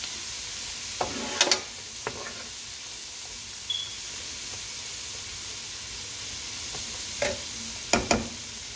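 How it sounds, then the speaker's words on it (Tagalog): Bean sprouts frying in a pan for kimchi fried rice, a quiet steady sizzle with a few sharp clatters of a utensil stirring against the pan. "Kasi kailangan natin iluto din siya yung ating beans sprout"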